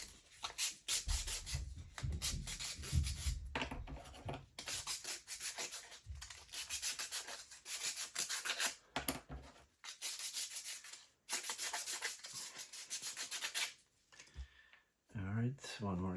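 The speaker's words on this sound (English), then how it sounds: "I took off all that wax while sanding." Wooden UGears tracked off-road vehicle parts are sanded by hand with rapid, repeated rubbing strokes in bursts separated by short pauses, close and fairly quiet.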